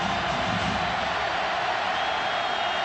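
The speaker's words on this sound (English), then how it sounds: "Crowd is trying to help their defense." At a college football game in a stadium, the crowd gives a dense, steady roar to help its defense. The noise stays loud and unbroken for the few seconds heard.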